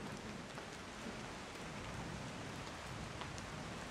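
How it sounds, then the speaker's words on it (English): Steady rain from a thunderstorm pours down with a dense, even hiss, with no thunder clearly audible and no voices. "now we got a thunderstorm coming in"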